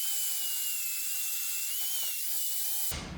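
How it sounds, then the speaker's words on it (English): A handheld power sander grinds steel suspension brackets ahead of welding, a continuous high-pitched whine with a shifting tone held steadily, close and fairly loud, cutting off abruptly near the end. "I'm gonna sand down these brackets and prepare them for welding."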